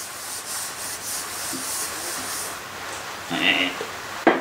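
A metal angle plate is lapped to take off burrs, giving a close, steady abrasive rubbing and scraping. Near the end come a brief metallic squeak and a knock.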